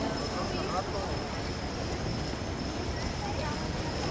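Horses' hooves clip-clop steadily while pulling a carriage through tight maneuvers at a farm show, a faint rhythmic clatter under someone talking and crowd noise.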